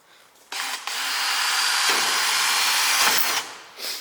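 A power tool grinds and sands fiberglass on a TRD wing for an AE86, a loud, close, steady whine that starts abruptly, holds for about three seconds with a brief dip, then cuts off.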